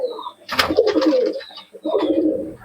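Close, low cooing from Madras and Malbai pigeons comes in two rolling bursts, one long and one shorter, fairly loud.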